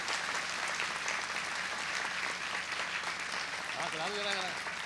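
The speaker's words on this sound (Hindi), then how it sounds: "उनके लिए ज़रा एक ताली खूब ज़ोरदार बनती है" An audience claps at a golden jubilee celebration, a sustained wash of applause that carries on under a voice speaking over it.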